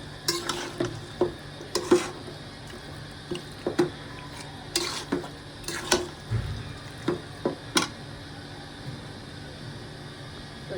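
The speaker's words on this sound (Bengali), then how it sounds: "মাংসটা দিয়ে নেড়ে তাহলে ভালোভাবে কষাই নিচ্ছি" Meat being stirred and sautéed in a pan, a spatula scraping and knocking in a regular rhythm of about a dozen strokes over a low background sizzle, close and clear with no talk.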